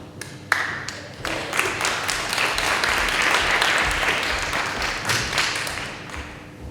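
An audience at a celebration of inspirational women breaks into applause, a few scattered claps quickly swelling into sustained, full clapping that holds steady and then eases slightly.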